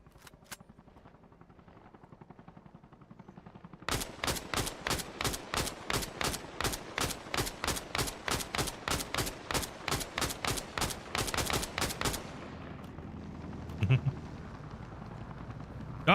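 Rapid bursts of gunfire in the video game Arma Reforger, a fast even string of loud shots rattling for several seconds after quieter background noise, then cutting off into low ambience.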